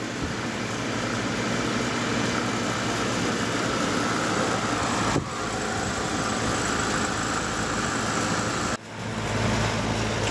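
A refrigerant recovery machine runs during a condenser swap, giving a steady mechanical engine-like drone with a constant hum that holds for the full length, broken only by two brief dips, with no talking.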